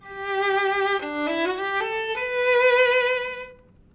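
A bowed string instrument plays a short, bright melodic phrase of a few sustained notes, clear and resonant, with no voices.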